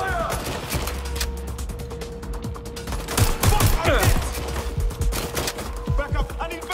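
Rapid volleys of gunfire from the video game Watch Dogs: Legion crack out in dense, close bursts with mechanical clatter, loud and continuous across the scene, with faint voices mixed in.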